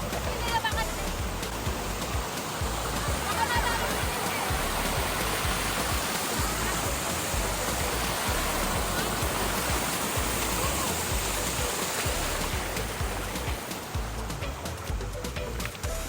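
Steady, loud rushing of Pinsal Falls waterfall in San Quintin, Abra, Philippines, a continuous broadband roar with no breaks, as if standing close to the cascading water.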